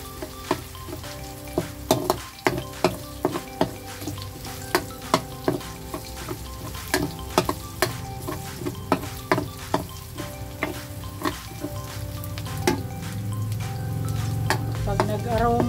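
Onions sauté in a pan for spaghetti sauce, a steady sizzle and fry broken by repeated sharp clicks and scrapes of stirring, growing louder near the end, with no talk.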